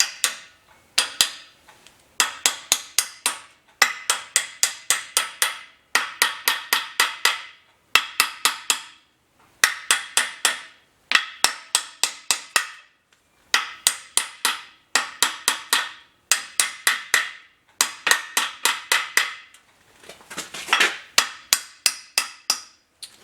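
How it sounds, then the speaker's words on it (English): Steady bursts of sharp metallic hammer taps drive a bearing cup into the rear axle of a Willys Jeep during an axle rebuild, with quick clustered strikes in repeated groups and short pauses between them, close and loud with no talking. "And then we're going to tap our cup in."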